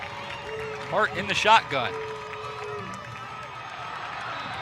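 At a college football game between Valdosta State and Carson-Newman, the crowd is on its feet on fourth down, giving a steady, fairly distant roar. A commentator talks briefly over it.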